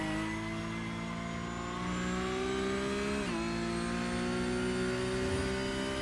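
A Porsche Cup race car engine drones loudly onboard at Imola while braking down toward Tamburello, a steady high-pitched note with one quick dip in pitch midway, then holding on.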